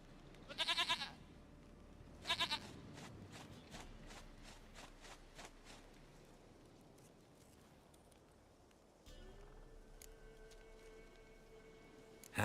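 A goat in The Witcher 3 bleats twice in quick succession, loud and close, followed by faint hoof-like steps and quiet ambient game sounds.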